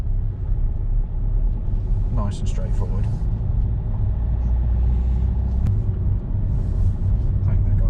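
A car rounds a junction in second gear, a steady low engine rumble running throughout beneath a person talking, with a few brief mechanical clicks mid-way.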